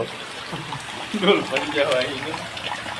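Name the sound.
rain water pouring through broken roof sheet in shop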